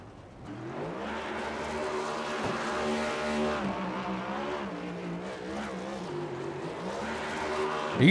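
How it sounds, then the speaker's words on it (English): NASCAR Next Gen race car doing a burnout on the front stretch at Talladega Superspeedway in iRacing, a sustained revving engine drone with squealing tires throughout, under a commentator's voice. "He's going to burn them down here all in the front stretch."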